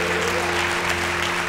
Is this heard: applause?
yes